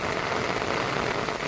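Rain comes down steadily in a heavy, even hiss that fills the whole moment with no pauses, with no voices.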